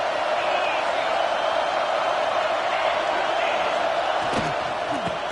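A college football stadium crowd at a Texas versus Clemson game keeps up a loud, continuous roar. A few sharp bangs rise near the end.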